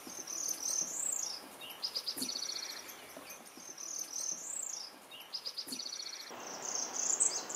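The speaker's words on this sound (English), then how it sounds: "Listen to this unusual rolling song." Warbler, likely a parula, delivering an unusual rolling song: high buzzy rising phrases followed by rapid trilled notes, repeated several times, clear and fairly close with faint insect hum behind.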